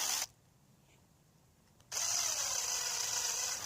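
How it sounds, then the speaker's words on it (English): A countersink bit drills into a hole in a Kydex knife sheath, heard as a close, steady, high-pitched whine that runs briefly, pauses for over a second, then starts again and holds to the end. "round off the hole with a countersink bit"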